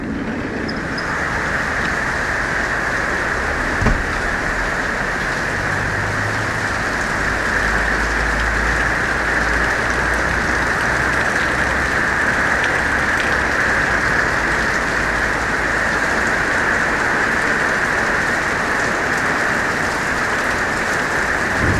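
Heavy summer afternoon rain in South Florida drums steadily on a tent rain fly, a dense, even hiss and patter that holds throughout with no talk.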